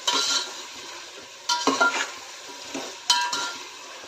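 Large potato pieces frying in a pan for a prawn pulao, with a steady sizzle broken by several bursts of stirring and scraping against the pan, close and fairly loud with no voices.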